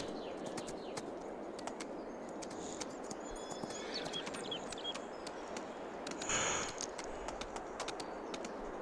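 Horse hooves clip-clop faintly and steadily in Farming Simulator 22 on the Alma, Missouri map, a soft distant patter set against chirping bird calls and a quiet ambient bed.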